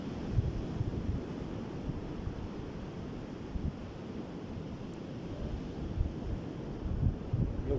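Ocean waves wash onto the shore in a soft, continuous surf roar, faint and distant, with gusts of wind buffeting the microphone.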